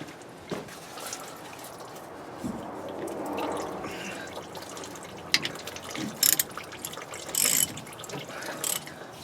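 A hand tool ratchets and clicks while loosening the fuel filter on a Dodge 3500 Cummins, with quiet mechanical rustling and a few sharp metallic clicks near the end.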